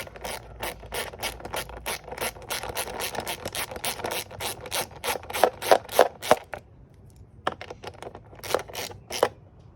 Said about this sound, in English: Grab your 10 millimeter wrench. Wrench, tighten these up.